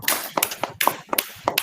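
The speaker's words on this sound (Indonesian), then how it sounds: "Tepuk tangan buat Mbak Alfi." A small classroom group claps for a student in a short patterned burst, a few sharp, close hand claps in a quick repeating rhythm.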